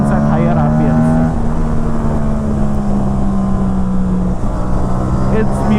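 A motorcycle fitted with a GPR Ghost full exhaust system, dB killer in place, held at high RPM, a loud, sustained engine drone with a steady pitch, close and continuous.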